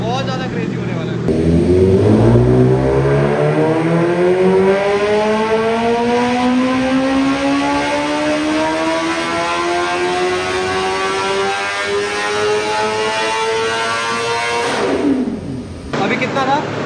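A Stage 2 tuned BMW S1000RR motorcycle screams on a dyno, its engine pitch rising steadily through the gears in one long, loud run before cutting off sharply near the end.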